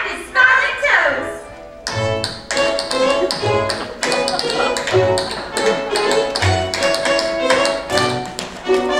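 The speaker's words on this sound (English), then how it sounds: "Listen to Bert tap his smiling toes" Rhythmic tap-dance footsteps from a stage song-and-dance number, crisp and fairly close, rattling out over a bright orchestral accompaniment with brass and strings.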